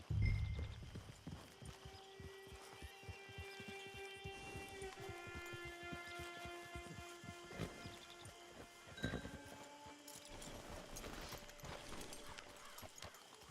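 Horse hooves clip-clop in a steady walking rhythm in Red Dead Redemption 2, close and clear, with a soft musical score playing underneath.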